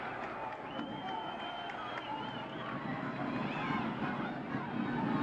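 Capacity crowd in the Sumo Hall in Tokyo at a professional wrestling match, a steady roar of crowd noise and murmuring with faint scattered shouts throughout.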